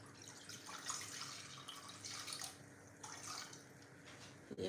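Water running from a tap into a cooking pot in a home kitchen, a steady broadband splashing rush that holds throughout at moderate level, no speech over it.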